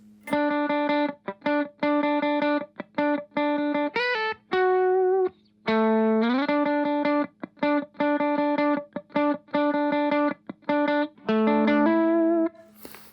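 A distorted electric guitar plays a repeating rhythmic hook in its normal range for a worship song tutorial, with tight staccato note bursts, occasional slides and effects coloring, loud and alone with no talking.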